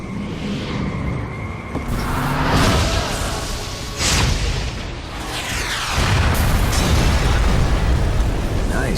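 A magic missile blasts in the video game Eat Lead, a loud sustained explosion with booming bursts and whooshes around 2, 4 and 6 seconds over continuous game noise.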